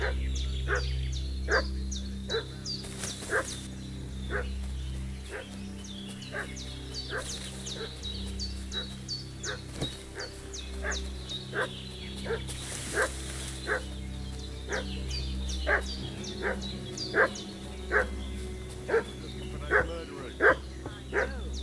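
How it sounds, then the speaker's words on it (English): A dog barks and fusses in the video game Kingdom Come Deliverance II, giving a long series of regular, sharp barks at moderate distance over a low ambient hum, with birds faintly audible. "What's that dog making such a fuss about?"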